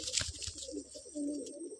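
A Madrasi pigeon in a loft at Basirhat gives a few low, throaty coos over a faint high background hiss, brief and fairly close.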